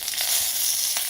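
Mustard seeds, cumin and curry leaves sizzle loudly in hot ghee in a kadai, a dense close-up crackle with a few sharper pops.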